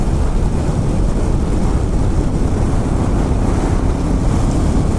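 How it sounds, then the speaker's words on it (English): Strong wind buffets the microphone during a motorcycle ride on a windy hilltop road. It makes a loud, constant low roar with no break and no voices. "Blooming hell, it's windy."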